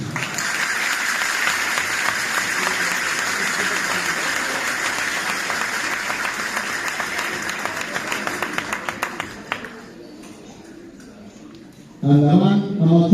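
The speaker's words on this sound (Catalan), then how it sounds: "Un fort aplaudiment per ells." An audience at a Ballada de Gitanes folk dance gathering in Parets del Vallès claps loudly and steadily for about ten seconds, the applause fading away before a voice and music start up.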